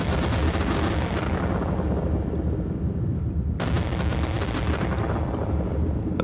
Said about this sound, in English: And that's our thunder sound.